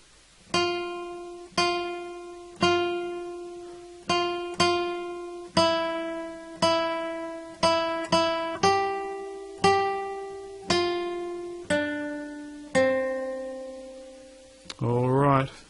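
A guitar plays the chorus of Jingle Bells slowly, a dozen or so clean single notes plucked one at a time with even spacing, each decaying before the next, quiet and close, ending with a brief voice.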